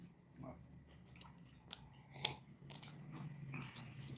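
Someone bites and chews hot radish-stuffed paratha, soft crunchy bites and mastication sounds close up in a quiet room, with one sharp crackle midway.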